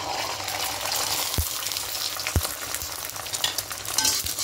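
A cracked egg sizzles in a little white oil in a wok, a steady close hiss of frying broken by a few sharp knocks of a spatula against the pan.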